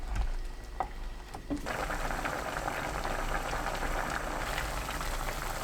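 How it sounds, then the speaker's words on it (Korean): Lotus root and perilla stew boils in an open pot over high heat, a steady, dense bubbling that holds from start to finish after a few faint clicks at the beginning. "뚜껑 열어둔 상태로 센 불로 6분 끓입니다"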